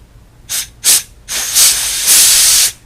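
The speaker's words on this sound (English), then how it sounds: "to check it, you just take like an air compressor" Short bursts of compressed air from an air compressor hiss through the check valve of a Mercury 50 HP outboard fuel pump: two quick puffs, then a longer sustained blast that is loud and close.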